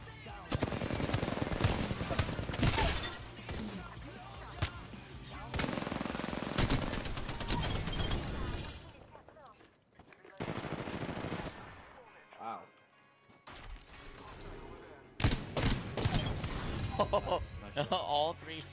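Rapid bursts of automatic gunfire from Apex Legends crackle in dense volleys, broken by short pauses and quieter stretches before another sharp round of shots, with game effects mixed in.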